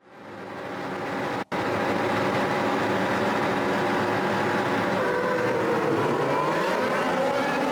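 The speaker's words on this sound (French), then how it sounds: "Très bon départ de Lewis Hamilton qui vire en tête au premier virage." Formula 1 race cars launching at the start of the 2018 Australian Grand Prix in a loud, sustained engine roar that swells in and holds steady, broken only by a split-second dropout early on.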